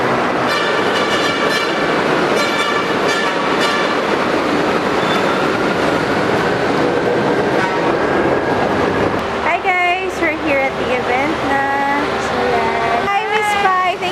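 A metro train on the MRT rumbles loudly with steady rolling noise and high squealing tones, and voices talk over it as it runs.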